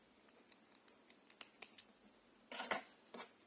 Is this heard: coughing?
no